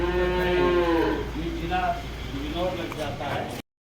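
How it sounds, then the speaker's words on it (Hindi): Several Badri cows, a hill breed, moo in long drawn-out calls at a cow shelter with thousands of cattle. The lowing is loud and close, with overlapping calls from more than one animal. "ये है हमारी सारी बद्री गाय जो सड़कों पर आप लोग देखते हैं"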